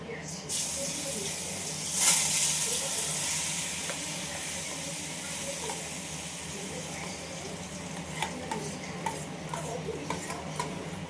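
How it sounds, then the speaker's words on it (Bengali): A thick banana-flower lentil paste sizzles gently in a wok while a utensil stirs and scrapes at intervals over a steady hiss. "এবার এটা আমি কড়াইতে কষিয়ে নেব"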